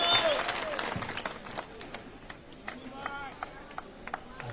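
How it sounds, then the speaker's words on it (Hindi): Crowd at a Gujarat election political rally in Jamalpur, Ahmedabad, applauding a candidate as he is welcomed, with scattered claps and murmurs at moderate distance, fairly subdued and fading through the clip. "जोरदार तालियों से स्वागत जमालपुर के उम्मीदवार साबिर भाई काबलीवाला"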